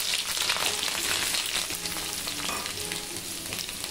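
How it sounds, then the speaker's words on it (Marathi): Cumin and mustard seeds sizzle steadily in hot oil for a stir-fried spring onion and chana dal dish, a dense, continuous crackling hiss that stays loud throughout with no talking. "इथे तेल गरम करत टाकले, जिरं, मोहरी"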